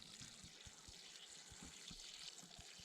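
Dirty sponge-bath washing water is poured out of a container outdoors during a solo survival outing, producing a faint, continuous splashing stream with small gurgles, with no talking.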